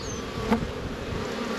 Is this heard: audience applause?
no